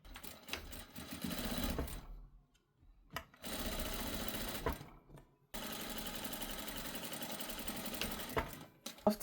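A sewing machine runs a half-inch straight stitch along a skirt band in close, rapid bursts of stitching separated by short pauses, with a few small clicks between runs.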